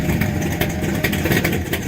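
A Chevy car engine drives past nearby, a steady mid-pitched rumble with slight rises in revs over about two seconds, no voices.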